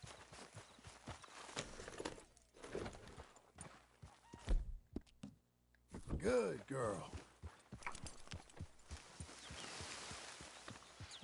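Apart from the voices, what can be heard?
horse hooves walking in Red Dead Redemption 2 video game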